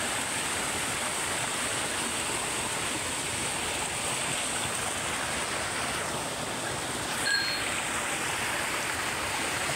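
A creek flowing steadily, a constant rushing wash of water that stays even and moderately close throughout, with no talking.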